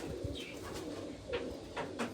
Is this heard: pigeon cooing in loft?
yes